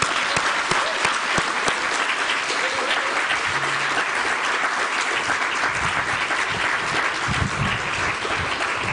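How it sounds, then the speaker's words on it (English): Audience applause at a university graduation ceremony: a large crowd claps steadily and evenly for the full stretch, a dense continuous patter with no voices over it. "So applause for her."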